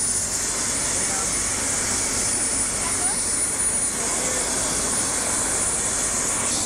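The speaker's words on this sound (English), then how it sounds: "So these lucky people have just gotten off the helicopter." A tour helicopter's engine after a flight over the reef, a steady, loud turbine roar and high whine with no let-up, while people talk nearby.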